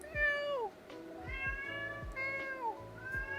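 A person imitates a cat with a run of drawn-out, nasal meows, four calls in a steady series, close and fairly loud with no other sound.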